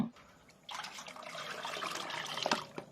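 Homemade liquid fertilizer mixture poured onto chili plants in a garden: after a quiet start, a steady splashing pour of liquid begins and runs on, moderately close, with a few sharper splatters toward the end.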